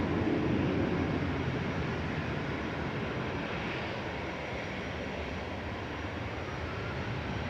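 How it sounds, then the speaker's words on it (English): An EasyJet plane departing from Manchester Airport toward Amsterdam, a steady broad engine roar heard from a distance, even and continuous throughout without any talking. "EasyJet departing here to Amsterdam with flight 2161"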